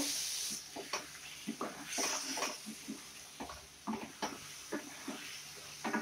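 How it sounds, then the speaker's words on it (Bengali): Mushroom masala with garam masala and kasuri methi powder being stirred in a pan, soft irregular scrapes and sizzling bursts over a low frying hiss. "এগুলোকে আমি আবার একটু ভালো করে নেড়ে দেব"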